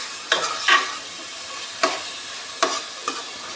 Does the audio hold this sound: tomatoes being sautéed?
yes